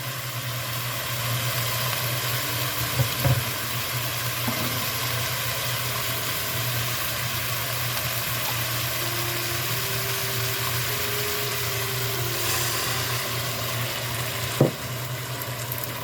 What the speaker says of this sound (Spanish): Ahora le vamos a echar una taza de vino seco de cocinar.